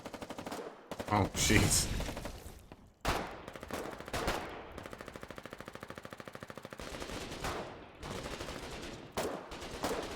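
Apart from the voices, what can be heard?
gunfire in the video game Foxhole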